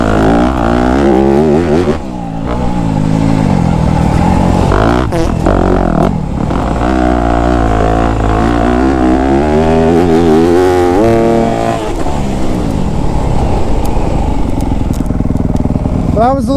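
Motorcycle accelerating hard while riding, a loud continuous engine roar rising and falling through the revs with wind rush, a rider's voice over it.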